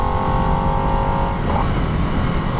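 A 2022 Harley-Davidson Nightster is ridden with its engine revving, a loud continuous motor drone under rushing wind noise, with the pitch shifting slightly as the rider works the throttle.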